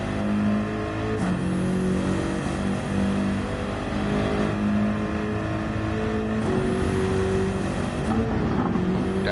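Race car engine in Gran Turismo 7 droning at high revs, with sudden pitch drops from downshifts and a few sharp transients, loud and steady throughout and no voices.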